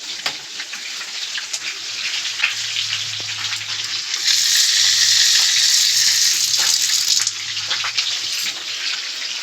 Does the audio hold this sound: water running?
yes